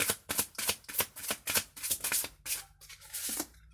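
Tarot cards being shuffled and drawn, a quick run of crisp papery riffles and slaps at close range, then softer sliding of a card, with no talk.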